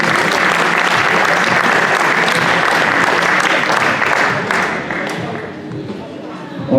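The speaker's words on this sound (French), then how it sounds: "On peut les applaudir." Loud, sustained applause from an audience at a French diploma award ceremony, many hands clapping densely and evenly before the sound thins and fades toward the end.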